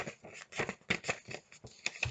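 Crisp paper rustling and creasing as origami paper is folded into a ninja star, a series of short close crinkles and swishes with small gaps between them, with no talking.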